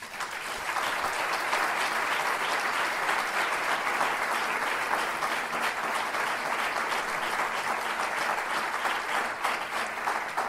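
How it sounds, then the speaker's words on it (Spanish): A lecture audience breaks into loud, sustained applause, a dense wash of many hands clapping that holds steady throughout with no talk over it. "No me aplaudan mucho, que tengo que contar muchas cosas y tengo poco tiempo."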